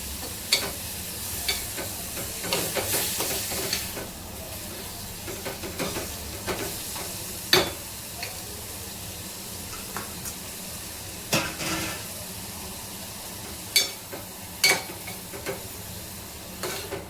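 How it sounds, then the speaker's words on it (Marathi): Prawns frying in butter on a flat iron tawa over a low gas flame, a steady soft sizzle with occasional sharp clicks and scrapes of a utensil stirring, close and moderately quiet, with no talking. "गॅसच्या कमी फ्लोमध्ये स्लो ठेवूनशी त्याला बटरमध्ये शिजून घ्यायचे."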